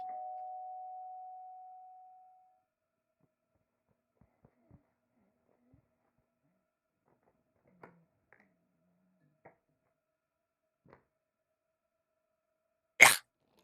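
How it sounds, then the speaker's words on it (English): A doorbell in a video game rings once with a clear sustained chime that fades over about two seconds. Scattered faint clicks and taps follow, then a sudden loud sharp burst at the end. "Press E to ring doorbell."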